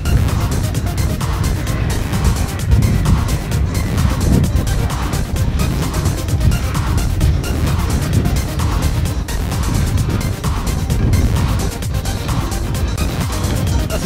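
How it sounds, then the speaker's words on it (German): A Pirate Party truck carrying a sound system rolls past at a hemp march, its engine and a steady rhythmic bass thump running loud and continuous from start to finish, with crowd noise around it. "jetzt kommt hier der LKW von der Piratenpartei und dem Soundsystem"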